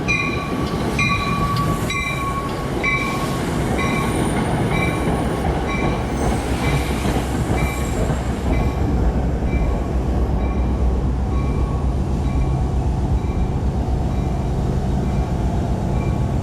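A commuter train rumbles beneath a bridge in Lyndhurst, New Jersey, heading toward Hoboken, a loud close continuous roar with rhythmic wheel clatter and brief squealing tones early on, no talk.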